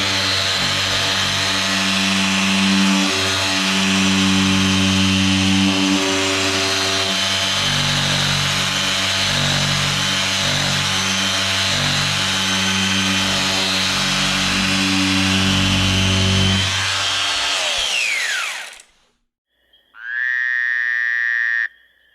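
A power sander works steadily across wood, a loud, continuous buzzing drone with a strong tonal hum that runs for about eighteen seconds, winds down, and then starts up again briefly.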